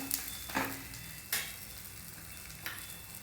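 Keerai adai batter frying on a hot pan just after being flipped, a soft steady sizzle with a few brief louder crackling bursts, close by and with no talking.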